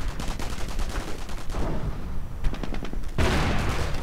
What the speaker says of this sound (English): Rifleman constantly getting sniped, getting shot up by the Volksgrenadiers